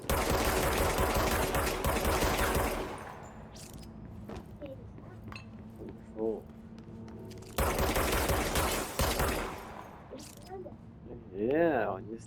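Automatic gunfire in a PS5 shooter, two loud sustained volleys separated by a quieter stretch of mechanical clicks and clinks, with brief game sound effects in between.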